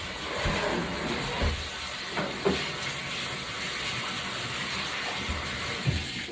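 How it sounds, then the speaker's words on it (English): Water runs steadily from a tap into a bathtub before cleaning, a continuous broadband hissing rush with faint knocks and splashes, close and unbroken with no talk. "So I'm just going to run a little water."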